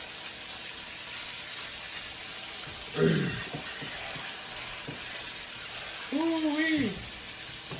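Louisiana pork chops sizzle steadily in a pan, a constant bright frying hiss throughout, with a brief clatter and a short exclaiming voice over the cooking.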